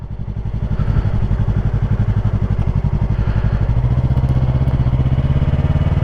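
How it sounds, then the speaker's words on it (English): Motorcycle engine close by, a heavy low pulsing chug that rises in pace as the throttle opens, eases briefly around the shift, then pulls steadily again under gas. "let off the throttle, shift up into second, let the clutch out, and give it gas."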